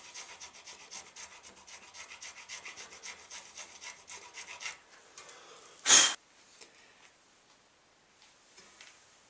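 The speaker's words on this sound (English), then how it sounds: "I'm going to roll that back and forth a little bit as I'm filing as well." A small file being rolled back and forth in a guitar nut slot, heard as quiet, rhythmic rasping strokes for several seconds, then a single sharp loud knock followed by faint scattered scrapes.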